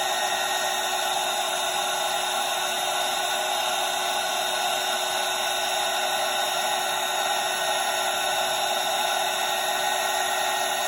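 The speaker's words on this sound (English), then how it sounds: "As the heat gun gets hotter and it's been running a little while" A heat gun runs steadily at close range, a constant whining blower hum with airy hiss that holds at an even level throughout.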